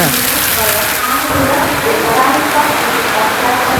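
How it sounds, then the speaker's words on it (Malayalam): Steady rain at Shoranur railway station hisses loudly and evenly throughout, with no breaks in the dense wash of noise. "നമ്മളിവിടെ ഇറങ്ങുക ട്രെയിനിൽ. മഴ"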